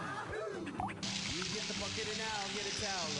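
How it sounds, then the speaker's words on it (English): Water from a hose rinsing a pet in the Fisher-Price Time to Play Pet Shop video game, a steady soft splashing spray with sloshing, running continuously and fairly quietly under a talking voice. "Use the water hose to rinse off."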